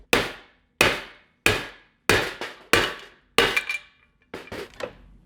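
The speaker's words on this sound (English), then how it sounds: "So, hammer time." A hammer strikes a small fuel tank on a tiny four-wheeler build powered by a 10 HP 212 engine, dimpling the metal with about eight sharp, ringing blows at a steady rhythm, the last few quicker and lighter.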